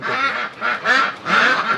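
Several ten-month-old ducks at a farm in the Chalan Beel wetland quack loudly close by, three or four raspy bursts in quick succession.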